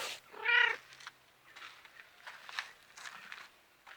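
A house cat gives one close, loud, drawn-out meow in a garden where carnations are being potted, then only soft rustling and faint movement follow.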